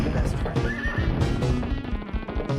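A horse in a video game whinnies and clip-clops along, its hoofbeats and neighs close and prominent, while a player talks excitedly over the game sounds.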